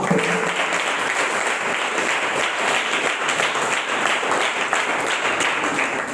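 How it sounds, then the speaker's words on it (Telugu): A church congregation claps loudly during a Sunday worship service, a dense, even burst of many hands close to the room that holds steady for several seconds with little talk. "ఒకసారి గట్టిగా దేవుని మహిమతో చప్పట్లు కొడదాం"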